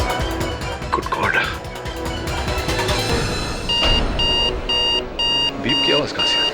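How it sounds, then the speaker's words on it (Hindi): Regular electronic beeps from a bomb pulse steadily in the second half of the clip, cutting through dramatic background music and voices in a courtroom drama. "बीप की आवाज कहां से आई?"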